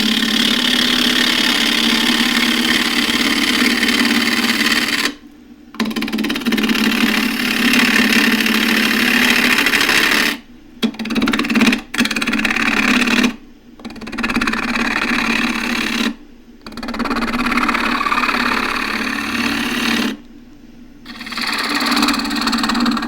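A wood lathe spins a knotty, split Himalayan cedar bowl blank, giving a steady mid-pitched motor whir that runs loud and even, broken by several short silent pauses.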